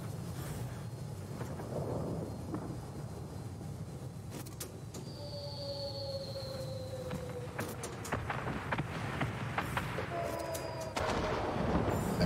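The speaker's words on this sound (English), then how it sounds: "bomb the same two gun emplacements if they're available" Bombs exploding as an RB-17 bomber makes its run on gun emplacements in World of Warplanes, heard as repeated deep, rumbling blasts over a steady engine drone, fairly loud throughout.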